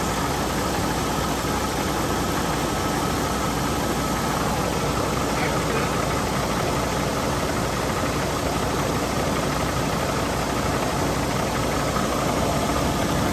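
A truck engine, running after sitting for six months, idles loud and close as a steady broadband rumble with a faint knocking texture and no breaks.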